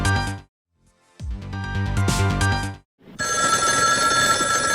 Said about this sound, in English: I've tapped this phone so that when it rings, it'll ring at the station house too